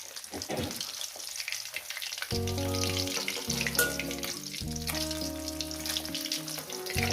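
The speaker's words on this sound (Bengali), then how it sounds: "দু মিনিট ভেজে নেব তো মাছটা আমি ভেজে নিয়েছি" Katla fish pieces sizzle steadily as they fry in hot oil, with a melodic music bed entering partway through and sitting over the frying.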